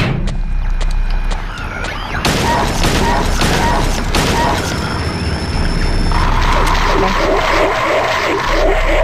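Gunfire in Silent Hill 2 HD Collection, loud booming shots and crashing bursts over dense, noisy game ambience, with a harsh tone entering toward the end.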